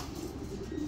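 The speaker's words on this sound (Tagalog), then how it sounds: "Lubas na ang ibon ni Boss Elad" A pigeon coos softly and low, a brief close murmuring call with no voices over it.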